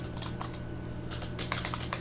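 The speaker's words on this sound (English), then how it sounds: "Let's type it in, and then I will explain what the by function represents." Typing on a computer keyboard gives quick, close key clicks in uneven bursts over a low steady background hum.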